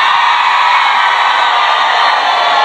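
Crowd at a corporate event screaming and cheering together, a loud, sustained wall of voices that holds steady without a break.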